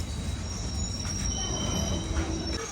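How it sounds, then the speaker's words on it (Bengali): A train rolls into Rangapara North station with a heavy rumble as its wheels squeal in high, sustained metallic tones, loud and close throughout. "এ আমাদের ট্রেন"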